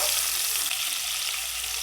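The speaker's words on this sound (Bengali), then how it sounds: "পেঁয়াজটা বেরেস্তা করে নেব" Chopped onions sizzle steadily in hot oil in a home kitchen, being fried until crisp brown after chicken pieces, a loud continuous hiss that cuts off at the end.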